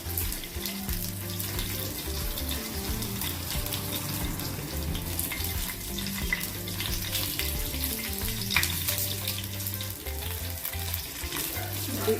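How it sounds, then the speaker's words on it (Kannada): Curry leaves fry in hot oil on a low flame for hog plum pickle, a continuous, even crackle and sizzle that stays steady throughout with no voices. "ಕರಿಬೇವಿನ ಸೊಪ್ಪನ್ನು ಕೂಡ ಹಾಕಿದೆ. ಫ್ಲೇಮ್ ಸ್ವಲ್ಪ ಲೋ ಅಲ್ಲಿ ಇಟ್ಕೊಂಡು ಫ್ರೈ ಹಾಕಬೇಕು."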